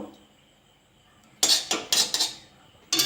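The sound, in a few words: wok set on gas stove, ghee added with spoon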